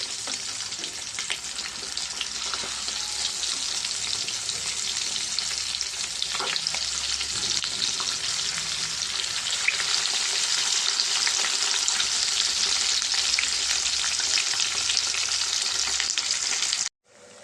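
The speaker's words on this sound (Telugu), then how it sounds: "మనకి గోల్డ్ కలర్లో వచ్చేదాకా ఫ్రై చేసుకోవాలండి చేప ముక్కల్ని" Fish pieces coated in masala deep-fry in hot oil until golden and crisp, giving a loud, continuous, close sizzle that holds steady throughout and cuts off abruptly at the end.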